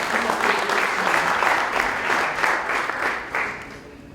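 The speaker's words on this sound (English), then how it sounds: "Please give them a warm round of applause as they introduce who they are." Conference audience applauding panelists at a service-leadership panel: a dense, steady wash of many hands clapping together for several seconds, fairly loud and continuous with no speech over it.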